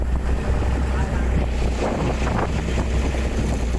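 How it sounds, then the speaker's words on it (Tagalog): A long fishing boat's second, reserve engine running as the boat speeds up at sea. The motor drones steadily under heavy wind buffeting and water noise, continuous and close. "Dito pala pinapagana natin yung pangalawang makina para mapagtas natin ng mabilis yung ating patutunguhan"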